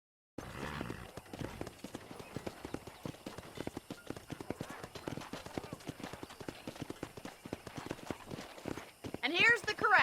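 Horse hooves clip-clop steadily at a walking pace around a ranch corral in Red Dead Redemption, a dense run of close hoofbeats with a brief whinny-like sound at the end.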